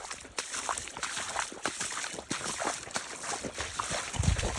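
A draught horse wades through a puddle and mud, its steps sloshing and splashing in a steady irregular rhythm, fairly close, with a low thud near the end.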